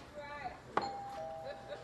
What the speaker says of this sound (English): I rang the doorbell so I can hear how it sounds.